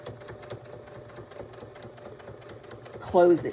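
A sewing machine runs a quick rhythmic top stitch along a baby bib seam, close and steady, with a brief voice near the end.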